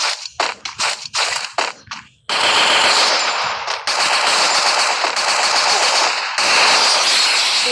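Rapid automatic gunfire from a lone wolf match in a shooting video game, ending in a headshot kill: a few short separated bursts, then long loud sustained streams of shots, close and dense with no talking.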